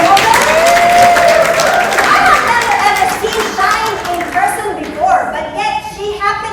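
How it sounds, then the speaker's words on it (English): An audience applauds newly promoted members at a business meeting, a dense burst of clapping that thins out over a few seconds, with voices talking over it. "Can you give a round of applause to our newly promoted RCs from Melbourne?"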